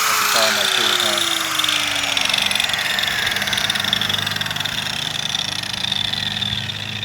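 A non-variable-speed Makita grinder fitted with a P4 blade, running at roughly 12,000 RPM on a prefab quartz countertop, holds a loud, steady, buzzing motor whine after a short falling tone at the start.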